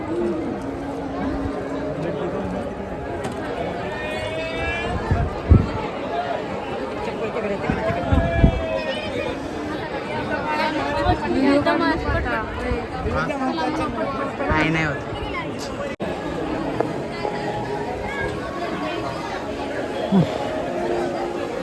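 Crowd chatter along the way to Akkalkot and Tuljapur: a dense murmur of many voices at moderate distance with steady bustle, footsteps and occasional sharper calls, while a nearby person talks over it.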